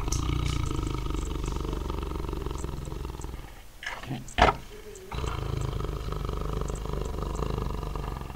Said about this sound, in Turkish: Pelenk.